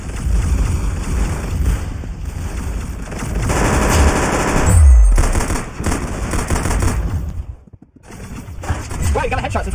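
Rapid automatic gunfire in the Roblox game Arsenal rattles loud and continuous through most of the stretch, breaking off briefly near the end before resuming, with the game's effects layered underneath.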